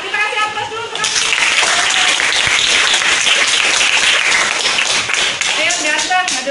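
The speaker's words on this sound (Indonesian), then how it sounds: "Kita kasih aplaus dulu untuk Afif" A classroom of students breaks into sustained, energetic clapping that fills most of the clip, dense and close, with a few voices underneath as they welcome a student forward.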